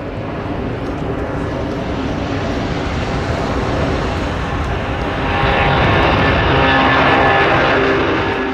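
A toy airplane drones steadily nearby, a broad roaring hum that swells a little louder toward the end.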